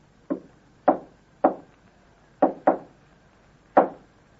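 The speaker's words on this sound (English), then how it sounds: "knock on door this way" Six sharp wooden knocks on a door, a radio-drama sound effect in an uneven pattern with two close pairs, crisp and near against a quiet background.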